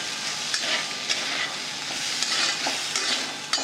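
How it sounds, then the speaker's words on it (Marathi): Barnyard millet (varai) being stirred and dry-roasted in a pan gives a steady, close scraping and rustling with soft sizzle throughout, a few sharper scrapes standing out, and no talking. "वरई अशी सारखी हलवत राहायची"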